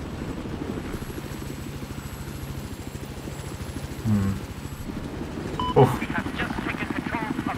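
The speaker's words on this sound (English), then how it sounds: "Can someone jump out and grab the chopper?" A helicopter in a Battlefield 4 match thrums with a rapid, steady rotor pulse throughout, loud and close, while players talk over it and brief game effects cut in.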